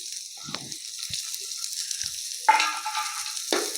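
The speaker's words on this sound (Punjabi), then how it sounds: "ਉਦੋਂ ਤੱਕ ਆਪਾਂ ਪਿਆਜ਼ ਨੂੰ ਭੁੰਨਣਾ ਹੈਗਾ" Finely chopped onion fries in a pan with a faint, steady sizzle, broken by a few soft knocks and two sharper bursts of hissing as it is stirred.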